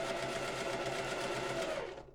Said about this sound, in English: I'm going to back stitch, and I'm going to continue sewing until I get to the next mark